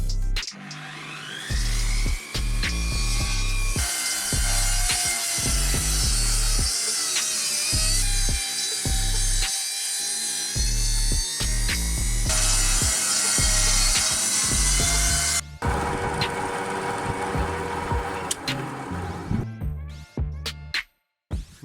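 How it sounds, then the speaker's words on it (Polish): A handheld circular saw whines loudly and continuously as it trims the edges of wooden planks, its pitch dipping under load before winding down at the end. "najpierw obetnę brzeg y, każdego bala, każdej deski pilarką, taką ręczną"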